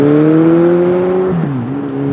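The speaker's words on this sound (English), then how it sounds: "I gotta wait for the exhaust to die down so y'all can hear me" Passing road traffic roars with a loud, steady engine drone that drops in pitch about midway as a vehicle goes by, then settles into a continuing hum, with no talking.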